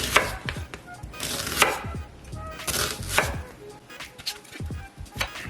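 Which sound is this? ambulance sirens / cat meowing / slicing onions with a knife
slicing onions with a knife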